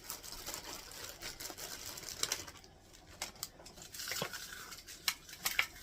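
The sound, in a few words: breaking up cooked bacon in a bowl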